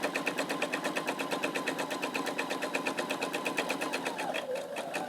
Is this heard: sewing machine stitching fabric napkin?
yes